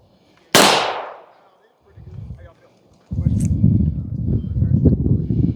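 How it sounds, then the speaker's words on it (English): One loud, sharp pistol report from a Tisas SDS Arms Night Stalker on an outdoor range with a steel target, its long tail decaying, followed by people talking nearby. "so I'm not shooting at the steel target, and I'm hitting my area"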